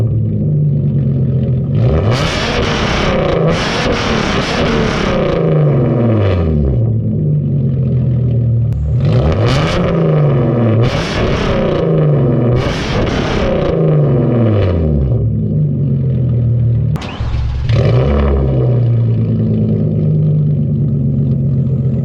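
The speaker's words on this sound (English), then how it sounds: "Let's go ahead and get some revs now." A Hyundai Genesis Coupe 3.8 V6 fitted with NGM headers revs loudly up close, with repeated throttle blips that climb and fall back to a deep, raspy idle several times.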